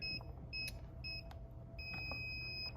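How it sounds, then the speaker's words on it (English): A Resvent iBreeze CPAP machine sounds its power-loss alarm: a short run of sharp, high electronic beeps in a steady on-off pattern, close by and clear over a low background hum, with no talking. "If you lose power, this machine will beep to let you know that you lost power"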